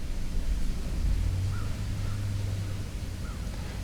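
Outdoors, a few birds call faintly at a distance, giving about three short caws over a low rumble of wind or background noise.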